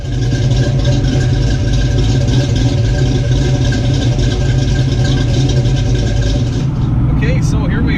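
A car fitted with a T-5 manual transmission runs loud and close, a steady throbbing engine drone that carries on evenly before easing off near the end, with faint noise over the top.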